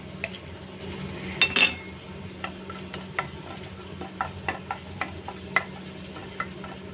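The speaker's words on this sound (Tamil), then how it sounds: "நம்ம இந்த கடுகும் வெந்தயமும் வறுத்து எடுத்துக்கலாம்" Mustard and fenugreek seeds roast in a dry pan with light crackles and scattered taps of a stirring utensil against metal, quiet and close.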